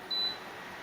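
A single short electronic beep sounds from a Westinghouse portable induction cooktop as its plus and minus buttons are pressed together to lock the controls, clear and close over quiet room hiss.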